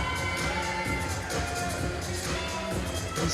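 A Netherlands crowd cheers at a Paralympic swimming medal ceremony in an indoor pool venue at the 2014 IPC European Championships, a continuous roar of voices and shouts with no pauses.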